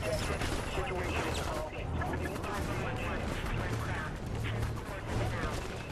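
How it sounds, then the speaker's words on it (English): Video game Prototype 2 combat fills the scene with dense, continuous gunfire, rattling volleys and crashes, loud and unbroken throughout. "I just want people to stop shooting at me"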